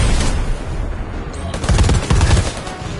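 Dense automatic gunfire from the PS5 game Predator: Hunting Grounds rattles loud and close, with rapid overlapping shots filling the full few seconds.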